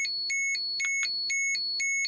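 A radiation meter's alarm beeps in rapid, evenly spaced high-pitched electronic tones, close and steady with no other sound.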